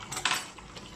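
Ugba (oil bean) dropped into a pot of boiling meat water for Nigerian nkwobi, giving a brief soft clatter and clink of pieces landing and the pot rattling, fairly quiet and over within a moment.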